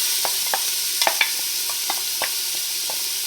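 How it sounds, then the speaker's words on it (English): Onions sautéing in olive oil in a hot pan, a steady soft sizzle with light scraping and stirring clicks scattered over a few seconds, close and alone. "we're going to start by sauteing our onions until they're translucent"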